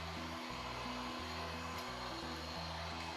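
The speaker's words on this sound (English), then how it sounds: "it's really like a hair dryer because it's like there's a sound of an air, a wind" A handheld IPL laser hair-removal machine blows air with a steady, even whoosh and hum like a hair dryer, close and unbroken for the whole stretch.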